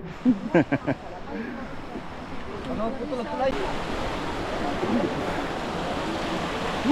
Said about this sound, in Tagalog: Ganda ng batis.